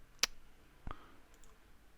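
A computer mouse clicks twice on an on-screen locate button, each click short and crisp, with a quiet gap between them and a few faint ticks afterward.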